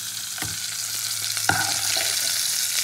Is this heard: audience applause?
no